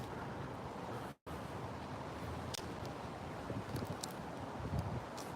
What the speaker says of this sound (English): the wind's kind of taking this gimbal a little bit, so hopefully that's not being too obnoxious